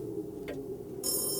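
An indoor telephone starts ringing in an upstairs bathroom, its bright bell-like tone cutting in suddenly and continuing steadily over a low background hum.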